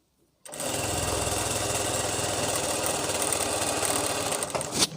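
A sewing machine stitches a seam on palazzo pants, starting abruptly and running in a fast, even whirring chatter, close by, until it slows and stops near the end.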